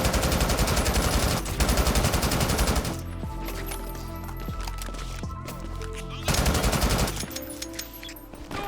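Automatic weapon fire in the online shooter Brink: loud rapid bursts of gunshots in two long strings, separated by a quieter stretch with a few scattered shots and game sounds.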